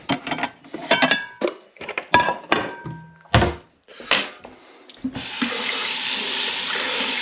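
A stirring spatula knocks and clatters in a kitchen sink with several sharp thunks, then a tap opens and water runs steadily over it, close and fairly loud.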